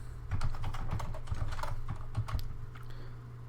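A password typed on a computer keyboard at close range, a quick run of crisp, irregular key clicks lasting a few seconds.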